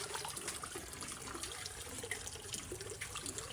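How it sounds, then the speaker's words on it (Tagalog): Water runs and splashes steadily into a pig feeder, a continuous close pouring sound with no voices. "Lagyan natin ng tubig mga kababoy."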